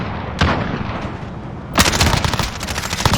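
Rapid bursts of gunfire from Call of Duty: Modern Warfare multiplayer, a single shot early on followed by a dense, loud volley of automatic fire crackling for over a second.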